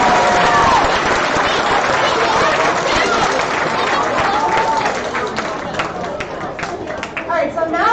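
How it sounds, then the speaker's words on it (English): A crowd at a robotics competition awards ceremony claps and cheers, a loud sustained burst of applause mixed with excited voices and chatter that gradually thins toward the end. "So let's give them all a huge round of applause."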